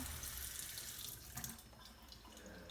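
Tap water runs steadily into a sink as hands are rinsed, a close, continuous splashing hiss that eases slightly partway through, with no voices.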